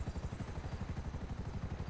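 A helicopter in GTA Online makes a steady, rapid rotor chop at low volume, alone without voices.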